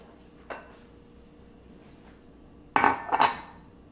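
Utensil clinking against a bowl as vegan chocolate cookie batter is stirred with milk: a light tap near the start, then a louder burst of scraping, clattering strokes toward the end, close and otherwise quiet.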